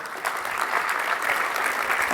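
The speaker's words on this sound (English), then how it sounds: "I'll take that applause for him." Audience applause after a speech honoring a school superintendent, a steady, fairly loud wash of many hands clapping for about two seconds.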